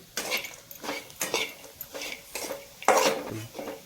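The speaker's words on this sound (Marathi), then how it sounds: "जरा चांगलं हलवत राहू।" Onion and peanut chutney is stirred in a pan. A spoon scrapes and clinks against the metal in steady, repeated strokes, close and clear, with a soft cooking hiss underneath.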